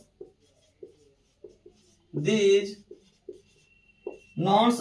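A marker or chalk writes a sentence on a board in a classroom lesson, making soft, evenly spaced taps and strokes between stretches of a person talking.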